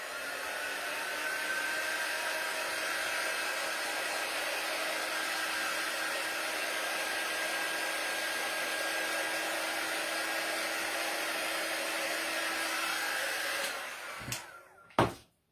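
A hair dryer blows steadily and loudly at close range, drying paint on a small gold church ornament for winter wall decor, then switches off near the end with a couple of handling knocks.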